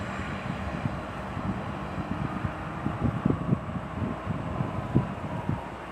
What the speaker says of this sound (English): Lufthansa in from Munich.